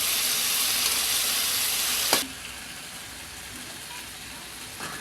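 Spiced eggplant frying in a pan for a small-fish chorchori gives off a loud, steady sizzle, then a sharp hissing burst as water is poured in, after which the sizzle drops to a quieter simmering hiss.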